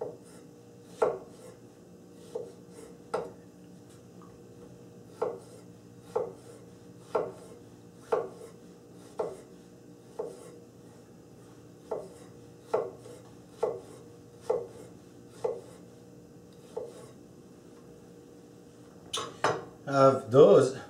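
Knife slicing fruit for a homemade summer tart: a dozen crisp, evenly paced chopping knocks against a board, close and fairly quiet, ending in a quicker cluster of clattering hits.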